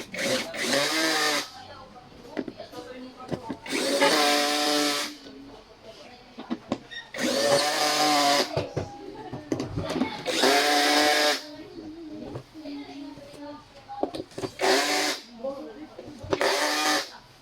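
Power tool whirring in repeated short bursts while bolts are tightened during assembly of a black mesh office chair, each burst loud and close, with gaps of handling noise and a person talking between them.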